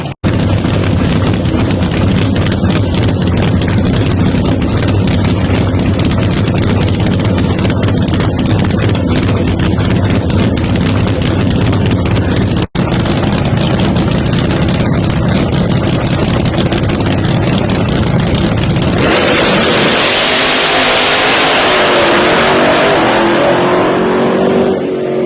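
Keith Haney's Black Widow Corvette Pro Mod drag car thunders past at a drag strip, a loud sustained engine roar with crackling exhaust that cuts off and gives way to a hissing rush of a second car.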